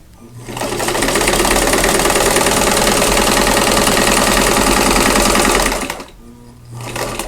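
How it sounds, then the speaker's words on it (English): A sewing machine stitches quilt block fabric for a Mrs. Morgan's Choice block. It runs loud and steady for about five seconds, stops abruptly, then starts again briefly. "So I am going to start sewing on one corner, and then I'm going to turn it and sew a square onto the opposite corner."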